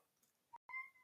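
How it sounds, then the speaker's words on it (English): A pet cat gives one short, faint meow indoors, a brief tonal call heard briefly in a quiet room. "sorry, that's my cat."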